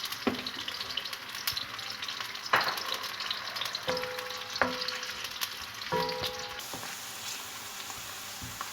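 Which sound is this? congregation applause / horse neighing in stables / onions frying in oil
onions frying in oil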